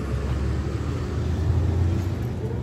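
Motor tricycle carrying passengers toward the port on Boracay: a steady, dense engine rumble and road noise from inside the ride, loud and continuous throughout, with no talking.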